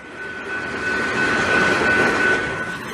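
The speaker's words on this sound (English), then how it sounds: "You can hear the train." Passing train, a rumbling rolling drone that swells to a peak midway and slowly eases, with a thin steady tonal whine riding on top, fairly near and alone without talk.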